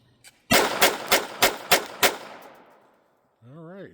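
A Jimenez JA22 .22 LR pistol fires six close, sharp shots in quick succession. The reports echo and fade, then a voice speaks.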